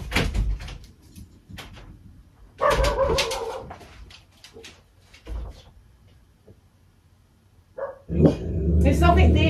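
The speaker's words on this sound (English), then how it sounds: "Now stand by, I'm going to let that dog out." A pet dog gives short barks and whimpers indoors while a door or cupboard bangs open and shut. A person talks between the sounds, and a loud burst comes near the end.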